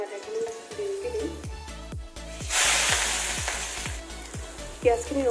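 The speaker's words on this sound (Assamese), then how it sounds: "পিঁয়াজ দিম আধাখিনি আৰু আধাখিনি দেৰিকৈ দিম।" Onions tipped into hot oil in a heated kadai burst into a loud, broad sizzle midway, the hiss swelling and holding steady close by while faint stirring knocks and a low background hum continue underneath.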